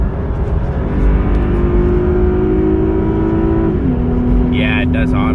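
Lexus IS 300 AWD F Sport with a six-speed automatic accelerates hard, its engine note climbing steadily and loudly from inside the cabin before an upshift drops the pitch, with a voice briefly speaking near the end.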